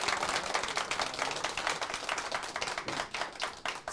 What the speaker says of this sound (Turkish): O zaman bir daha alkışlayalım. Bir daha alkış gelsin.